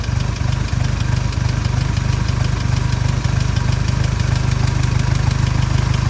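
An antique Hobart welding machine engine idles steadily after a cold start, a loud, close, even low rumble with a regular knocking pulse and no voices.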